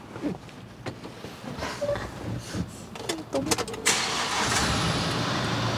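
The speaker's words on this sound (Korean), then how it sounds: "일단은 시동 한번 걸어볼게요." A 2018 Kia Bongo 3 four-wheel-drive double-cab truck is started up: a short cranking burst gives way to a steady, loud idle that holds to the end, with cabin clatter beforehand.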